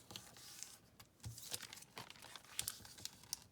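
Thin magazine pages crinkle and rustle as they are folded and glued into a journal pouch, with soft irregular crackles and taps, quiet and close.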